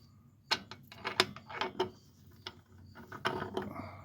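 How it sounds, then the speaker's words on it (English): Spider gears being rotated out of a GM 7.5 rear axle differential on an S10, giving several short metallic clicks and grinding scrapes at close range, with no talk. "You just rotate one spider gear, side gear, and there, that one came out."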